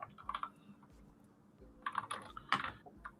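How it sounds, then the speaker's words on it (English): Someone types on a computer keyboard during a live stream, with quiet, close clicks coming in irregular clusters and short pauses between them. "why am I typing back into the chat?"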